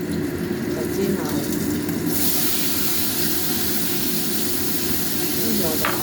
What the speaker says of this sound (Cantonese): 就煎下